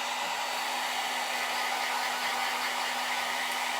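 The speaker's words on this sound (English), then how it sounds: "I'll use the cold set on my little hair dryer." A small hair dryer on its cold setting blows steadily to dry glue, a constant airy whir with a faint hum, close and unbroken.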